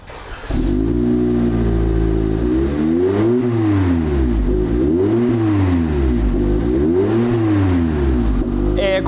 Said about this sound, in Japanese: ちょっとエンジンかけてみましょうか。